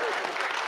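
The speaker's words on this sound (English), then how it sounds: "you can give me a round of applause, it's okay" Audience applause at a parent workshop, a brief dense wash of clapping held at a steady level and heard alone.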